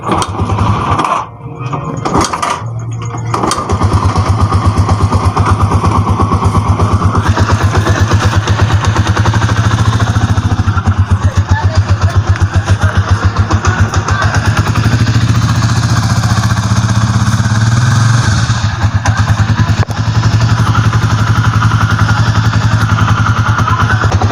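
A Rusi TC 125 motorcycle engine, noisy when shifting gears, sputters to life after a few short attempts, then idles loudly and steadily with a rough, rumbling clatter.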